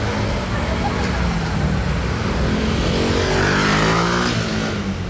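A yellow Mercedes SL on a road, its engine rising in a broad swell as it drives past at close range, with loud road and traffic rumble around it and a voice talking over it.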